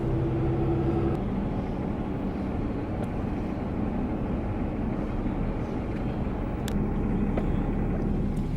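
Steady broadband road rumble from a car driving along a park road toward campsites in Shenandoah River State Park, a continuous interior drone with a few brief clicks and tonal hums.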